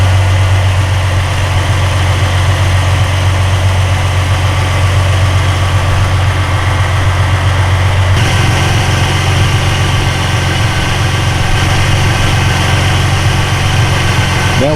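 Steady, loud idle of a 1999 Ford Mustang 3.8L V6 engine, a continuous low drone with a slight shift in tone partway through and no talking.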